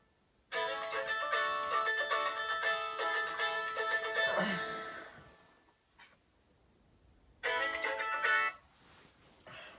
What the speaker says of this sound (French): Il faut que j'appelle Jérôme.